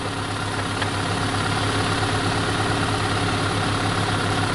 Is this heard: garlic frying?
no